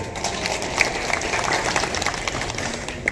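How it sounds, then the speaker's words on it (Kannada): Audience applause at a Karnataka Rajyotsava celebration held by a public works employees' association, a dense, sustained clapping from a sizable crowd heard throughout at fairly loud level. "ನಮ್ಮೊಂದು ದೊಡ್ಡ ಚಪ್ಪಾಳೆ ಅವ್ರಿಗೆ ಬರಲೇಬೇಕೀಗ"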